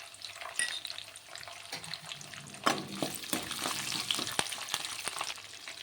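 Chana dal, urad dal, mustard seeds, cumin and a peeled garlic clove crackle and sizzle in hot oil for an Andhra-style raw banana fry, with steady frying hiss and scattered sharp pops, fairly close and alone.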